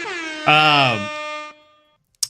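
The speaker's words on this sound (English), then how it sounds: "We'll get an air horn for that." A blaring air horn sound effect, one long loud harmonic blast that swells and then cuts off, followed after a short gap by a brief sharp noisy burst.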